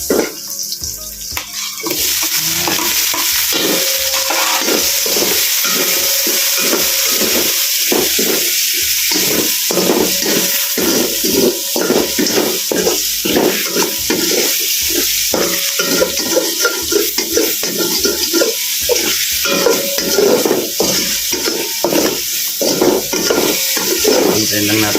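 Onion, garlic and ginger sautéing in a pan with tomato about to go in for ginataang kalabasa, a steady close sizzle with repeated scraping stir strokes throughout.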